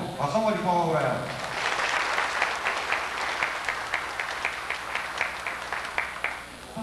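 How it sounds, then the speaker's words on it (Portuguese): An audience claps for a singer at a 1990s music show in Uberaba, applause starting under a speaking voice and settling into a rhythmic, slightly uneven patter. "uma salva de palmas para ela"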